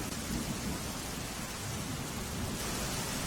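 Heavy rain pours down steadily in Gujarat, a dense continuous hiss of rainfall with a low rumble beneath, loud and unbroken throughout.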